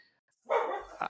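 One short, sharp dog bark sounds nearby, a single loud burst in a quiet setting with no talk around it.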